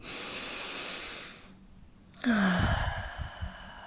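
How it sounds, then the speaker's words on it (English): One person takes a long, hissing deep inhale, pauses briefly, then lets it out in a louder, breathy exhale with a slight voiced sigh, close up with no speech. "So take a deep breath in with me now."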